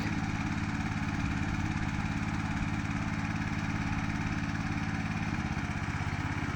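A motor tiller working garden beds to prepare them for planting garlic and onions, its engine droning steadily and loudly close by with an even pulsing chug throughout.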